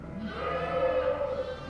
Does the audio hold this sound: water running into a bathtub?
no